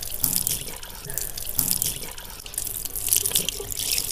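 Tap water runs steadily into a basin during wudu ablution, a continuous splashing hiss with irregular surges as hands and water move through the stream.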